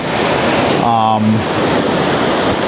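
Big surf at Bacton Beach on the Norfolk coast, an hour or so before a large high tide, roars as a steady, loud wash of breaking waves, with a short voiced sound briefly on top.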